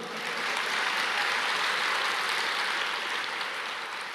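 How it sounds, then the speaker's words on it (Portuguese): Congregation in a church service applauds the Lord, a steady, even wash of many hands clapping, sustained and moderately loud from start to finish with no talk over it. "Vamos aplaudir ao Senhor?"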